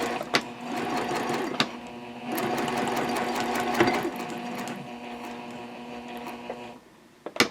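Sewing machine runs a seam with a backstitch at about 2.5 stitch length, a steady mechanical whir punctuated by brief clicks and pauses, quiet and close with no talk.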